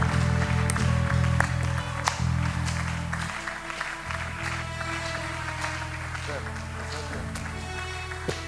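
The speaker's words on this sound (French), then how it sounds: "Est-ce qu'on peut le faire bien en acclamant très fort?" A church congregation applauds and acclaims during a service, steady clapping and crowd noise over a low sustained organ-like tone, with voices calling out and the level easing slightly over time.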